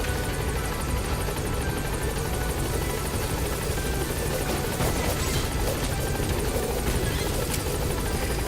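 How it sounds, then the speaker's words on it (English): A helicopter in the Metal Gear Solid V: The Phantom Pain video game gives off a loud, steady rotor roar and engine whine that fills the whole stretch, close up and with no talk. "This guy, I want him to come inside the helicopter with us."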